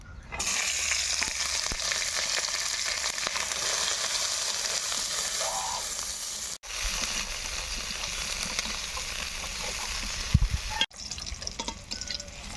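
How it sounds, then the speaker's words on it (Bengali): Capsicum and onion fry in a pan with a steady, loud sizzle that runs throughout, broken by two brief cut-outs and a few soft stirring knocks. "ক্যাপসিকাম পেঁয়াজ ভেজে নেব"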